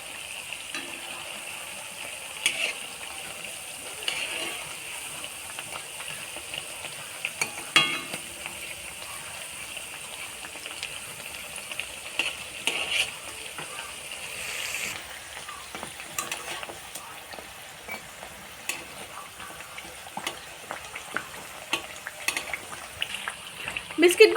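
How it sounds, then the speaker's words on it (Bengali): Crisp atta-suji (wheat flour and semolina) biscuits frying in hot oil give a steady, close sizzle with scattered crackles and pops, plus occasional soft clinks of stirring throughout. "বিস্কিটগুলো ভাজা হয়ে গেছে।"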